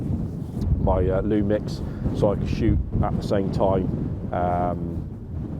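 Strong wind buffets the microphone high on the open moorland of Dartmoor, a constant low roar running under someone talking throughout.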